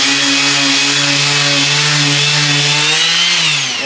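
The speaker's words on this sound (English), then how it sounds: "I want to give it a little sand." A power sander whines steadily and loudly against a glued wood joint on a shop stool, its pitch sagging slightly near the end, with no talking.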